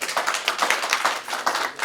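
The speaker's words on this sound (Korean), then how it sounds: "큰 박수로 부탁드립니다" A small audience at a Korean talk show on single-person households gives brief, fairly faint clapping, with individual claps distinguishable in a loose, quick rhythm.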